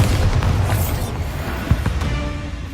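A Bombarda blasting spell from Hogwarts Legacy set off in a tomb, giving a deep, muffled boom with rumbling low end, followed by a sharp thud and a couple of lighter pops as debris settles.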